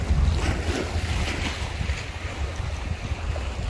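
Sea waves breaking against rocks on a Phu Quoc beach, a steady broadband wash with low rumbling surges and heavy wind buffeting the microphone throughout.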